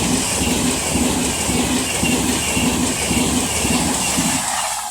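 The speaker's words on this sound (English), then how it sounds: "the next train to be coming through will be a Class 807 Avero running from Liverpool Lime Street to London Euston" A Class 807 Avanti train from Liverpool Lime Street to London Euston passes through Rugby station on the West Coast Main Line, a loud sustained roar with rhythmic wheel clatter that fades slightly at the end.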